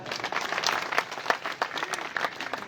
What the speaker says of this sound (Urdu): ایک دفعہ زور سے تالی بجا دیں بس